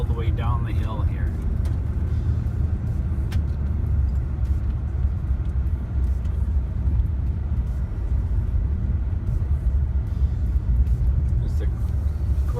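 Steady low rumble of a car descending a hill road into a valley on the route from Prince George to Bella Coola, heard from inside the cabin at constant volume with continuous engine and road noise under ongoing talk.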